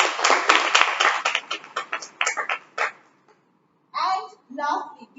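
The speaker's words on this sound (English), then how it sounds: "You know, applause for those." A burst of clapping from a small group fades out after a few seconds, followed by a short pause and then someone speaking.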